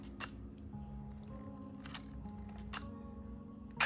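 Shutter clicks from a Fujica Auto 7 film camera, three short sharp snaps spaced about a second apart, close and quiet over a low steady hum.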